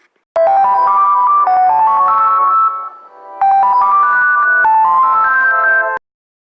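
A phone ringtone plays loud and alone, a bright melodic electronic tune in two bursts of about three seconds each with a short pause between them.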